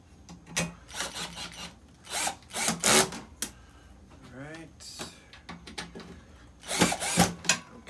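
A power drill whirs in short bursts as it drives small screws into a window air-conditioning unit during installation. The brief buzzing runs are close and loud, mixed with rubbing and handling noise, and people talk between them.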